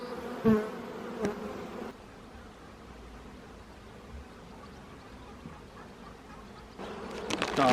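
Steady, close buzzing of honeybees swarming over an opened beehive during a frame inspection by a beekeeper, a continuous hum with occasional louder passes near the start and end.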